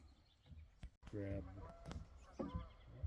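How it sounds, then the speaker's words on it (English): Geese honk in a short burst of calls at mid distance in spring, mixed with a person speaking nearby and light outdoor background noise. "Can you hear the geese? That's a good sign. Geese have come back."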